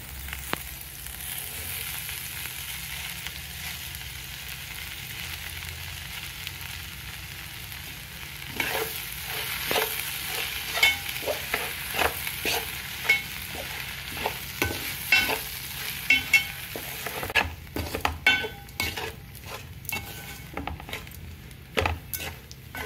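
Puffed rice stirred into fried onions in a pan for uggani: a soft steady sizzle first, then a run of dry scraping, rustling stir strokes toward the end.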